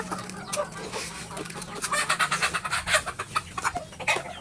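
Chickens clucking while being fed cold leftover rice by hand; a cluster of close, rapid clucks and pecking taps that build in the second half, over faint background noise.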